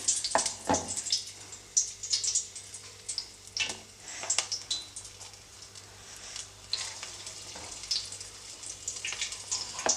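Green chillies frying in hot oil in a pan for North Karnataka-style mirchi, giving a soft, crackling sizzle with irregular bursts and a few clinks, close and fairly quiet.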